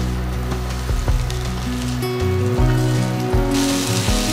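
Cauliflower tossed in a hot wok after garlic gives a steady, close sizzle and hiss, punctuated by repeated metallic scrapes and clunks from stirring, with no voices.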